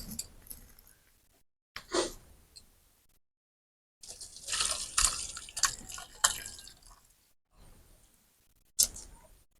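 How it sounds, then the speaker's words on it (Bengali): Chhana, a fresh cottage cheese, is poured into a strainer in a kitchen, and the whey drains off in short bursts of splashing and dripping with quiet pauses between them. "এবার এর মধ্যে ছানাটা ঢেলে নেব।"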